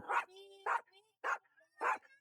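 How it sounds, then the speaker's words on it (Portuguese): A dog in an outdoor square gives four short, sharp barks at a steady pace, close and clear against a quiet background. "o cachorro tá aqui andando atrás de mim"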